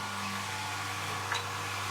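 Boat water pump running under pressure aboard a boat, a steady loud mechanical whirring hum with a constant low drone and no pause.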